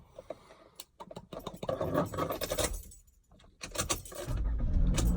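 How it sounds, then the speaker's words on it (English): A Toyota Camry being started: keys jangle and scrape near the ignition, then an engine cranks and catches, settling into a loud running rumble after a brief pause. "Let's go ahead and start the car."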